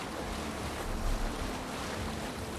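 Viking longship under sail across open sea in Assassin's Creed Valhalla, a dense, continuous wash of waves and wind rushing close around the hull, with no voices.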